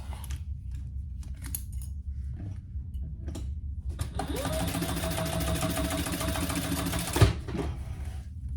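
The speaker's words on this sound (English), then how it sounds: "we're gonna just sew that closed" Sewing machine stitching a strap closed, a steady close mechanical whir running for about three seconds after some handling and rustling, ending with a clunk.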